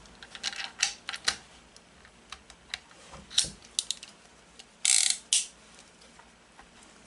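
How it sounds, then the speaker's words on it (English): Ruger Super Single Six .22 revolver being reassembled, the cylinder and base pin going back in with a series of sharp metallic clicks and brief sliding scrapes, close and alone without talk. "We return the cylinder, and then return the base pin."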